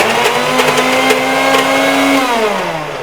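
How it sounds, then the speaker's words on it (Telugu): A kitchen mixer grinder whirs loudly and steadily while blending a paste for a Telugu sweet, its motor pitch holding constant, then dropping as it slows near the end. "మిక్సీ పట్టి ఆ పేస్ట్ పక్కకు పెట్టుకోవాలి"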